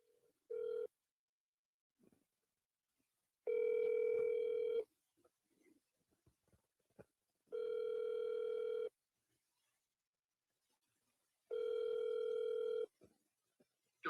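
A phone call to a cell phone rings out unanswered, sounding as three long even ring tones separated by quiet gaps and preceded by a short tone, clean and with no speech.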